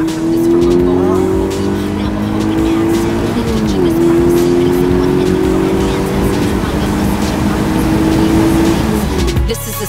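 A Mazda MX-5 2.0 Revolution sports car engine drones steadily at a loud, close level, pitch holding then dipping briefly as if shifting gear before climbing again.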